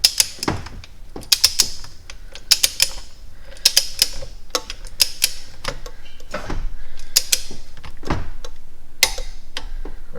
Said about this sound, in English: I have the torque wrench set to 37 foot-pounds. So let's go ahead and tighten it to 37 foot-pounds.